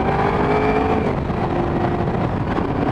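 Motorcycle riding along a road in traffic: a steady, loud engine drone and wind rush throughout, close and continuous, with no talking.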